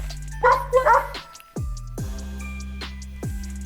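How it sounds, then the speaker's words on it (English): A cartoon Christmas puppy in a children's story yips and barks in two short bright bursts, close and clear, followed by soft chiming music with no talking. "It's Holly the Christmas pup."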